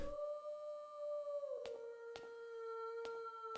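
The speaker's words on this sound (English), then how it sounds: "A wolf. The howl from the walls and the steam from the lake." A wolf in the video game The Middle Lands gives a long sustained howl that bends downward, followed by a few sharp clicks or taps, clear and prominent with no talking.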